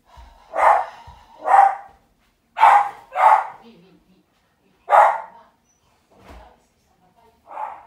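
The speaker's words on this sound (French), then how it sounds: "Mon chien avait quelque chose dans la cour là" A dog outside in a yard barks loudly and close in separate spaced bursts, one or two barks at a time, with pauses between and a softer final bark.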